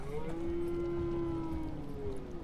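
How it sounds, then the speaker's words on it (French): Cows in the video game Dungeons of Hinterberg give one long, steady, drawn-out moo that sustains for over two seconds, clear and fairly close over a soft ambient background, with no voices. "Il y a des vaches."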